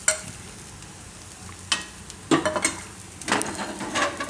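An aloo palak paratha roasting on a griddle over low heat, with a faint steady sizzle broken by a few louder scraping and flipping bursts from a spatula, close up and without speech.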